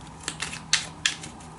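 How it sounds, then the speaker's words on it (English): Tarot cards shuffled by hand, giving three or four crisp, papery riffle bursts over a quiet background with no talking. "Let's shuffle this one a bit."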